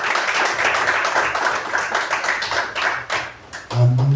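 A church congregation claps hands together in dense, steady applause that carries through most of the moment, with a low voice rising briefly at the very end.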